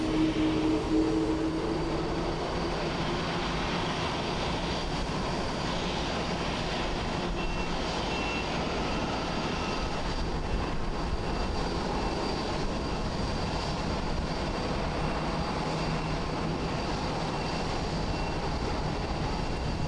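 All Nippon Airways Boeing 777-200, 19 years old, arriving at Haneda International Airport in Tokyo: a steady, broad jet engine roar that holds level throughout with no talk.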